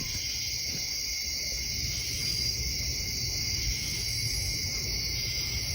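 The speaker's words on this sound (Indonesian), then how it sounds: "Sepi, sunyi, hanya suara jangkrik yang terdengar di sana." Crickets chirp at midnight at an abandoned airfield in a constant high-pitched trill over a low, quiet background hum, steady and unbroken throughout.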